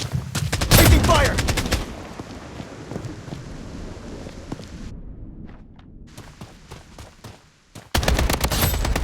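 Bursts of automatic gunfire and rapid shots crackle loudly in the Project BloodStrike shooter game, heaviest at the start and returning at the end, with quieter footsteps and scattered shots between.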